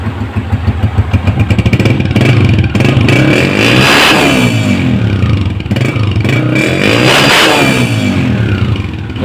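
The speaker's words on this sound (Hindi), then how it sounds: "अब इसी तरीके से सलेंसर का साउंड भी चेक कर लेते हैं।" A 2019 Honda CG 125 motorcycle revved through its exhaust silencer, heard up close: loud, throaty engine tone rising and falling in two strong rev sweeps over a steady idle rumble, with no talking.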